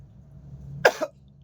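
A single short cough from a person pausing to drink water, sharp and close, with a quieter second burst right after it against a faint low background hum.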